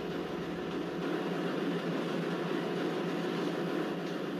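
Garib Rath Express train rolling along the track, heard as a steady low rumble and rattle from close by, continuous and even throughout with no voices.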